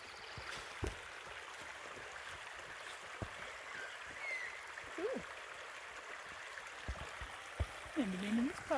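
A rain-swollen brook in a nature reserve near Mudgee, Australia, makes a soft, continuous babble and trickle heard from close by, with a few small knocks and people talking quietly over it.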